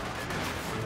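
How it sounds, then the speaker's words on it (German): Gunfire from the video game Company of Heroes 2, a dense, continuous rattle of infantry shots and distant blasts at moderate level. "Feindliche Infanterie schießt auf mich."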